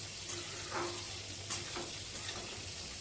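Shrimp, eggplant and potato curry is stir-fried in a pan, giving a steady soft sizzle with a few faint scrapes of the spatula, close and continuous.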